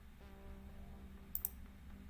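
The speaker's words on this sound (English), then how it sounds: "Right click on it, open window." A computer mouse clicks twice in quick succession, sharp and faint over a quiet background hum near a desktop computer.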